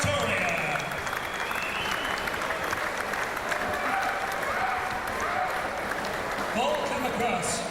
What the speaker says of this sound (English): how about a big round of applause for Louis Van Winkel from Pretoria.